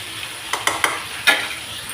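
Drumstick pieces lightly frying in a pan for sambar, with a soft sizzle underneath and a few sharp stirring scrapes and clacks spread across the moment.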